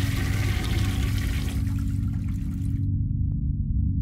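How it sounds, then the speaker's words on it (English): A toilet flushes in the video game City Of Nightmares, a loud churning rush of water that drains away and stops, leaving near silence with a couple of faint drips. "Flush it."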